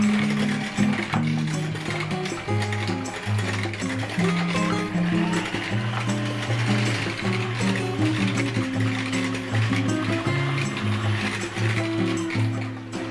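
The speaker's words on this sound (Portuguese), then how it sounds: "Não faz falta mais a batedeira." An electric mixer beats orange cake batter with milk and orange juice, a steady close whirring motor with rhythmic mechanical rattling and clatter running continuously for over ten seconds.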